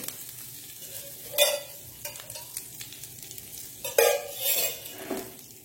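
Masala-coated fish pieces are laid one by one into hot oil by a riverside, each drop bringing a short sizzle over a faint background of frying, with a few soft clinks of utensils.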